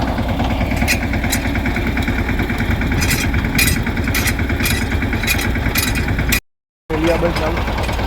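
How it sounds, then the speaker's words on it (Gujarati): A tractor engine chugs steadily up close while spraying pesticide on a groundnut field, a loud, rough, continuous drone with a rattling beat, briefly cutting out near the end. "ટ્રેક્ટર વડે દવા છંટકાવ ચાલુ કર્યો છે"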